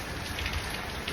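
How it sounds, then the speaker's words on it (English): Steady rain falls at night, a continuous broadband patter filling the short moment at an even, moderate level with no voices over it. "You like the rain?"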